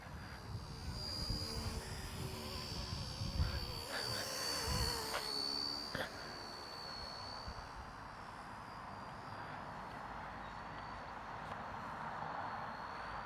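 A Wltoys K170 budget RC helicopter hovers and then sets down outdoors in some wind, its faint, high, steady rotor whine holding under breezy background noise.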